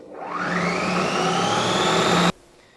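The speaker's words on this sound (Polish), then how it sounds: "Dodajemy roztopione masło, miksujemy raz jeszcze" An electric hand mixer whirs steadily through cheesecake batter with melted butter added, a loud even motor drone of about two seconds that stops abruptly.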